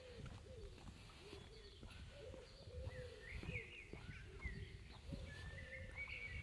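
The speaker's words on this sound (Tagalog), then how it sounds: "Madidinig mo dito huni ng ibon sa umaga" Morning birdsong outdoors, with several birds cooing and chirping in overlapping calls against a steady low background rumble, moderately distant and continuous throughout.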